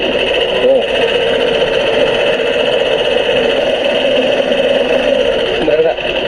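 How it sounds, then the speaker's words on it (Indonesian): Rough, noisy engine of a Yamaha NMAX scooter with a faulty timing chain tensioner, running steadily and close up with a constant mechanical drone and fine rattling ticks throughout. "sebuah sepeda motor NMAX yang suaranya kasar"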